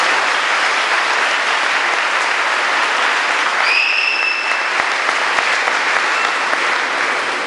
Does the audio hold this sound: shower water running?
no